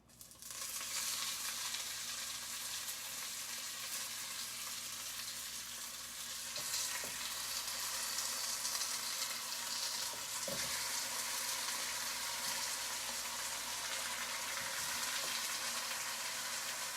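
Chicken pieces frying in a pot for Jamaican brown stew chicken, giving a constant broad sizzle with a few faint clinks and shifts, steady and close throughout, no speech.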